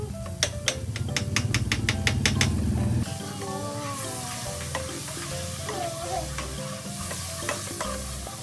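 Margarine melting and sizzling in a pan for sopas, a loud rattling stir with sharp clicks at first, then a softer steady sizzle continuing alone.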